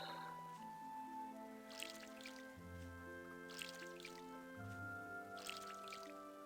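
Watering crops in the farming video game Harvest Moon: One World: soft drippy, squishy splashes come in three short bursts over steady background music, fairly faint.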